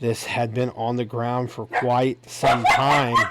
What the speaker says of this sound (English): I apologize for my dogs being mouthy back there